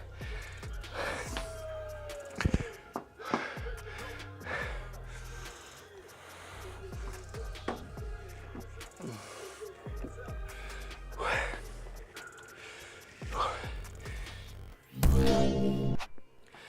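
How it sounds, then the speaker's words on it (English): A lifter breathes heavily after a set of barbell squats, with close, irregular gasps, snorts and panting breaths and a loud clatter near the end. "Sorry for the heavy breathing."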